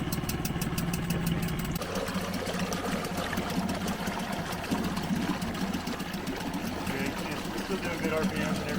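Used outboard motor running on a small leaky dinghy, a continuous buzzing, rattly engine drone that steps to a lower tone after a couple of seconds and holds steady, with people talking over it.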